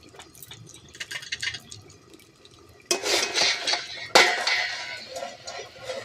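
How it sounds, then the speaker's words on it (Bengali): Metal pan clatter and a lid set in place while fish oil curry with bhola fish cooks in a home kitchen, with light drips and clinks leading to two sharper clanks and a sizzling wash. "এবারে কিছুক্ষণ ঢাকনা লাগিয়ে দেব।"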